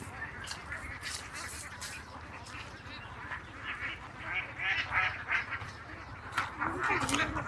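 Ducks quack repeatedly among plants in a busy outdoor scene in Kallara, Kottayam, the calls growing louder and more frequent toward the end over steady background noise.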